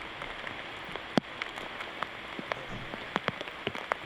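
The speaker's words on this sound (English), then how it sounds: "Rain is definitely coming down harder than it had been all day long" Rain coming down steadily on a disc golf course during a tournament round, a soft constant patter with scattered louder drops ticking nearby, with no voices over it.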